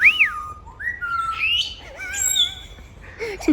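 Zoo birds giving clear whistles and rising and falling calls, several overlapping notes and chirps close by, bright and distinct over a quiet background.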